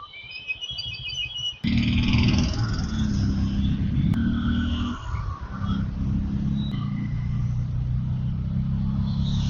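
Heavy road traffic near Uppal, Hyderabad: a loud, continuous engine rumble from nearby vehicles, with a brief higher tone at the start and a steady, dense mix of motors throughout.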